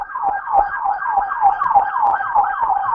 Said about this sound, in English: You hear that siren?